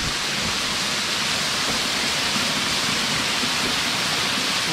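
A forest waterfall roars in the rain, a dense, steady rushing wash of water that stays loud and unbroken from start to finish.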